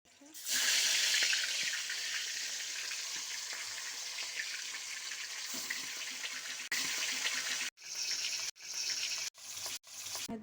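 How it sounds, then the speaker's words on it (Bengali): Fish frying in hot oil in a home kitchen, a loud steady sizzle that crackles continuously for several seconds, then breaks into a few short choppy bursts near the end. "এবার চলো, তেল গরম হয়ে গিয়েছে, মাছটা এবার ভেজে"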